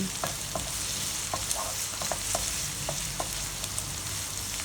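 Sea shells for a gisado fry steadily in a pan, giving a constant close sizzle broken by scattered clicks and knocks as the shells are stirred.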